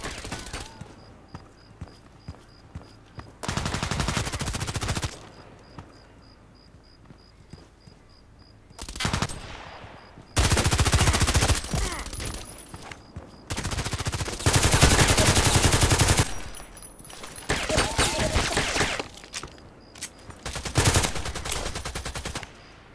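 Gunfire in a sniper video game, loud bursts of shots that come in separate clusters with quiet gaps between them and a faint ambient chirp underneath.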